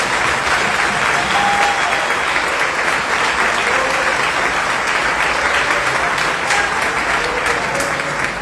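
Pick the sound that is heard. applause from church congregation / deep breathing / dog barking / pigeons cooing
applause from church congregation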